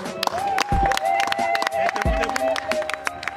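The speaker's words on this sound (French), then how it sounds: "j'aimerais que vous applaudissiez frénétiquement" Wedding guests at a civil marriage ceremony clap and cheer loudly and continuously, with a crowd babble and voices mixed through the applause.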